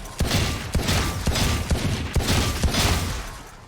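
The Sheriff pistol in the Valorant game fires a rapid series of sharp gunshots, about eight evenly spaced and loud, each with a brief mechanical rattle.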